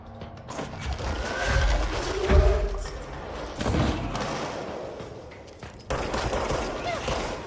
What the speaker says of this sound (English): Ow, shit, they're shooting me.